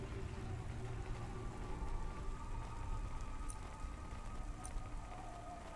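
Rain in the video game Cloudpunk patters quietly as a soft, steady background wash, with faint low rumble beneath and a couple of brief high ticks, no talking.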